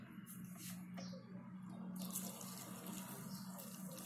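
Water poured from a kettle or tap onto instant noodles in a bowl, a steady close splashing stream with bubbling that builds and runs continuously for a few seconds.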